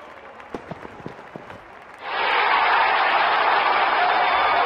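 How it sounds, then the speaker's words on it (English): Crowd in a cricket stadium erupts into loud, sustained cheering and roaring, following a few scattered claps and thumps in the moment before, then holding at full volume to the end. "Crowd is going crazy."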